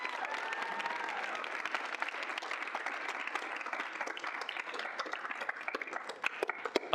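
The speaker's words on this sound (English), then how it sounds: "If we can get a round of applause." A student senate audience applauds at a meeting, dense steady clapping at moderate distance that turns more individual and sparse toward the end.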